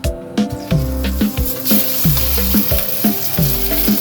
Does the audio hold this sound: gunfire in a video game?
no